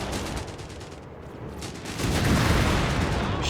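In Company of Heroes 3, a half-track fires from inside a burning vehicle, with steady rattling gunfire and crackling blasts under a dense, noisy battlefield roar that swells louder in the second half.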